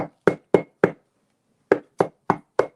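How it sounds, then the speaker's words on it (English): Knocking on a door comes in two crisp groups of four evenly spaced raps, close and fairly loud, with a brief pause between the groups and no voices. "I hear a knock on the door."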